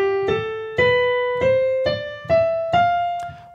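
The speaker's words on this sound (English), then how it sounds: "The Lydian mode is a major scale with a raised fourth." Notes of a Lydian mode scale, a major scale with a raised fourth, ring out one after another in a steady ascending line of plucked, ringing tones, each decaying before the next, with no voices.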